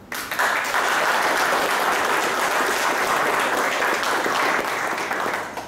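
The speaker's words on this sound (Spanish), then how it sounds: "para quien pido un fuerte aplauso" An audience at a Brazilian business delegation event at Expo Santa Rita 2017 breaks into loud, sustained applause. The clapping is dense and close and holds steady for about five seconds.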